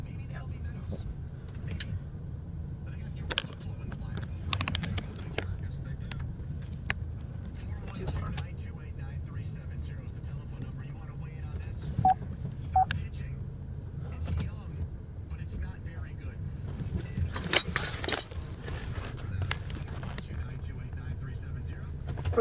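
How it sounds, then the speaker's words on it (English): An automatic car wash runs over a car with a steady low mechanical rumble and whooshing spray, broken by occasional louder bursts and clunks; faint voices murmur underneath. "So now it's time to wash the car"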